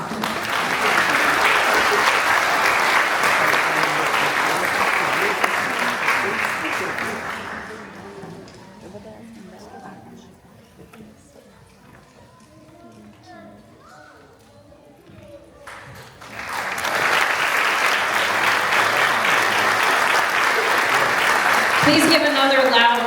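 Loud applause from an audience at a youth police academy graduation for the 2024 graduates, a dense sustained wash of clapping that fades to a quieter murmur midway, then swells again into full applause.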